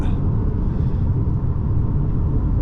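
A 2022 Ford Escape S accelerates on the road, heard from inside the cabin as a loud, steady low engine rumble mixed with road noise, with no talking over it.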